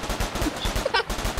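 A short burst of gunshots in the Roblox survival game Isle, fired toward a wall near another player inside a hangar. The quick shots repeat at an even pace over steady low background noise.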